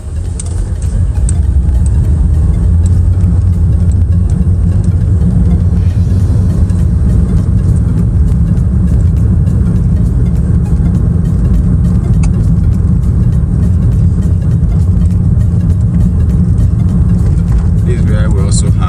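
Steady loud engine and road rumble from a car driving through the city streets of Enugu, a continuous drone with passing traffic noise and no pauses.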